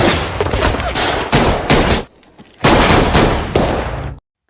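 Dense rapid gunfire erupts during a fight with blades and guns at a cemetery in a yakuza revenge film: loud sustained volleys, a brief lull near the middle, then another heavy burst before an abrupt cutoff.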